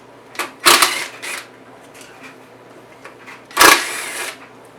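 An 8mm socket spins screws out of a Predator 3500 generator's spark arrestor cover, giving two loud bursts of ratcheting clicks separated by quieter, fainter ticks and handling noises.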